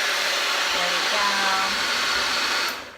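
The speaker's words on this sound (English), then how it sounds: "I'm gonna run this through the blender." A small blender runs continuously, blending banana, eggs and liquid ingredients for grain-free chocolate chia seed muffins; a steady, loud whirring motor noise that cuts off near the end.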